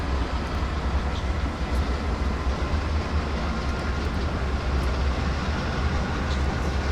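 A long manifest goods train led by a CN/IC locomotive on Marias Pass in Train Simulator 2019 rumbles steadily along the rails with a deep, continuous engine drone and no voices.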